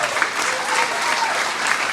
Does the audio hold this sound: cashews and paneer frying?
no